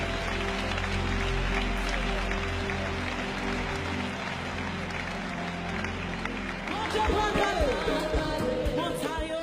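A church congregation at a service in Haiti claps for the King, and the applause swells toward the end over music and a speaking voice.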